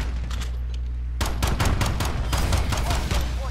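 Pistol fire in the Call of Duty Modern Warfare 2019 beta goes off as a quick run of sharp gunshots after a low steady rumble, rapid and close, with no talking.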